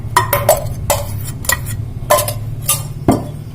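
A spoon stirs ground biscuit cake batter in a bowl, clinking against the sides in a string of sharp, close taps, roughly one or two a second, over a low background hum.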